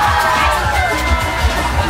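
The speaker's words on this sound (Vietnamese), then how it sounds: "vỗ tay" An audience at a 25th-anniversary school reunion for a high school class applauds and cheers, a steady wash of clapping and voices that stays loud for the whole short moment.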